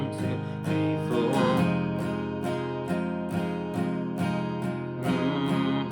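Steady down strums on an acoustic guitar, a chord struck on each beat in an even rhythm, ringing fully and close with no voice over it.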